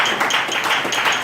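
A church congregation claps for the Lord, a dense, close burst of hand clapping with uneven rhythm that runs throughout the short moment without talk.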